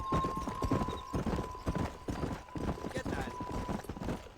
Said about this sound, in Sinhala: අපිට මේ අශ්වය පදින්න තියෙන්නේ.